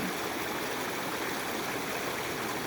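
A stream flows steadily close by, a dense, even rush and babble of water with no voices.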